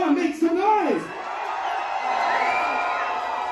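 Aboard a Carnival Sunrise cruise, an audience whoops and cheers loudly for the first team, a few voices rising in pitched yells at the start before the crowd noise settles into a sustained mixed roar.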